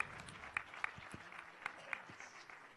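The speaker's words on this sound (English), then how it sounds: "Please applause for them" Audience applause for a startup team at a pitching competition event, a soft, steady patter of clapping with a few sharper claps standing out, moderately distant and fairly quiet.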